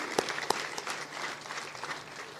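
An audience of parents claps for a children's performance at a ceremony, a dense, fairly steady round of applause with a couple of sharper claps near the start.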